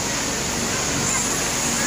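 Latourell Falls in Oregon pours with a loud, constant rushing roar of falling water, steady and close with no break.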